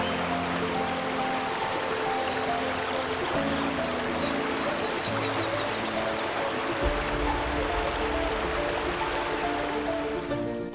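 The Amazon River flows through the rainforest as a steady, continuous broadband rush of water, with sustained tonal layers running beneath it throughout and no talking.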